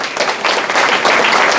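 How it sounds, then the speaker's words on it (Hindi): Audience applause at a motivational business talk, a steady wash of many hands clapping for under two seconds, fairly loud and continuous with no voice over it. "अब आपने इस बात पे ताली क्यों बजाई है तो मुझे नहीं पता"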